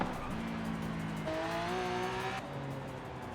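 A 2012 Lamborghini Aventador in the racing game Forza Horizon 5, its engine droning and rising in pitch through the gears with an upshift midway. The sound is steady and moderately loud, and nobody speaks.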